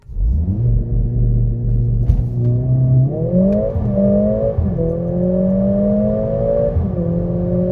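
A 2023 Mercedes-AMG A45s with a 421 hp engine accelerates hard, its note climbing steadily through several gear changes. The roar is loud, close and continuous, with no talk over it.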